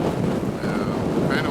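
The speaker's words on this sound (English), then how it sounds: "kind of windy" Strong wind gusts steadily atop a Mexican pyramid, producing a dense, rumbling roar as it buffets the microphone, with no clear voices.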